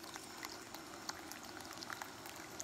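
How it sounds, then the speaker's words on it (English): Water bubbles at a steady boil, a soft continuous hiss dotted with small pops and crackles, close by and fairly quiet. "So water is boiling."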